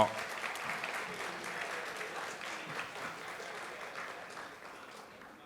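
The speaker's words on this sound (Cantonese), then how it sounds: "我哋再次用掌聲咧，恭賀5位嘅同學" An audience at a secondary school graduation ceremony applauds steadily, a dense wash of clapping that starts strong and gradually fades toward the end.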